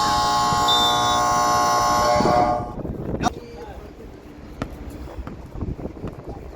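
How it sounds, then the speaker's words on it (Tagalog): A loud, sustained electronic buzzer sounds for about two and a half seconds at a basketball game on an outdoor court, then cuts off abruptly. Scattered court noise and faint voices follow. "May buzzer pala to."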